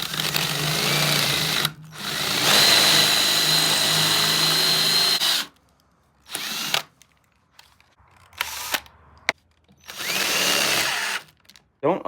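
A power drill drilling out a bolt head on a Yamaha motorcycle clutch cover whines loudly in long sustained runs, then stops and restarts in shorter bursts, close up.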